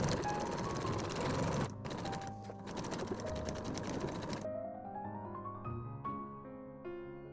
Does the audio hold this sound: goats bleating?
no